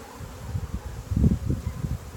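Honey bees humming softly around an open hive during a beekeeper's first inspection, a faint low drone with a few louder swells as insects pass near.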